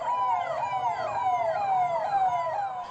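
Delhi police vehicles race past with sirens sounding, a loud, continuous wailing tone sweeping up and down repeatedly over faint road noise.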